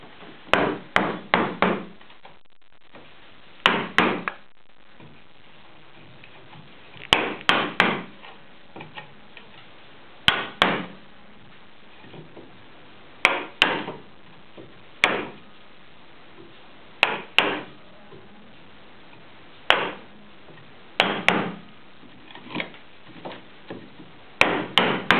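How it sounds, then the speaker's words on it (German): Hand-cut mortise for a mortise and tenon joint, chopped with mallet and chisel into wood, sharp knocks in quick bursts of three or four, repeated every few seconds, close and loud. "Will also erstmal das Loch möglichst tief haben und steche dann den Rand sauber ab."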